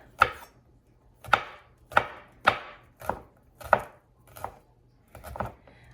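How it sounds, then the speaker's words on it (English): A knife chopping a large garlic clove on a board, seven or eight crisp evenly spaced strikes about a second apart, close and clear with no talk. "So I'm just gonna give that a chop."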